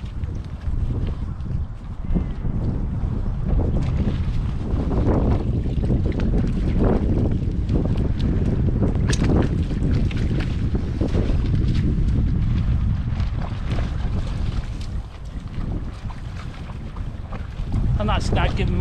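A sailing canoe running downwind, with continuous loud wind rushing over the microphone and water washing along the hull, steady and unbroken throughout.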